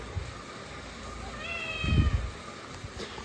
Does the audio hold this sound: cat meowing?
yes